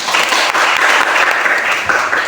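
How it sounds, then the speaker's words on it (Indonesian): A classroom of students breaks into loud, dense applause for a discussion group, an unbroken wash of many hands clapping close by with no talk over it. "tepuk tangan untuk kelompok"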